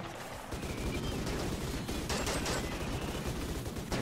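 Sustained gunfire from colonists shooting back at pursuing mechanoids in Rimworld, a dense, continuous rattle of rapid shots with no speech over it.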